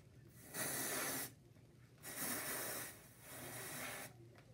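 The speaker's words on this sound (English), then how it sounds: "we gotta grease that off with that dry shampoo" Dry shampoo sprays onto hair in three separate hissing bursts, each lasting under a second with short pauses between, soft and close with no speech.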